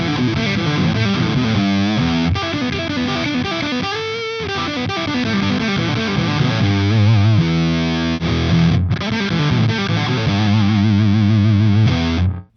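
An electric guitar played through a fuzz effect, with fast pull-offs to open strings giving a thick, saturated, buzzing tone in quick riffing runs, loud and continuous with no talk.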